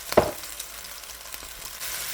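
Minced garlic and other ingredients for bourbon chicken sauté quietly in a pan with a soft, steady sizzle. One sharp clack of a utensil against the pan comes near the start.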